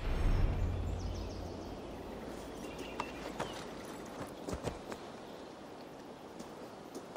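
Horse hooves clip-clop in Assassin's Creed Valhalla as a rider moves through an untamed Gloucestershire forest, irregular hoofbeats at close range over soft ambient background, with no voices.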